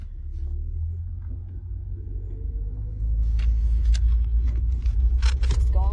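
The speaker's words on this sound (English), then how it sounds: "Just going for a ride in the car," A car drives along with a cat riding inside, giving a deep, steady engine and road rumble that swells louder halfway through, with light rattles and clicks in the cabin.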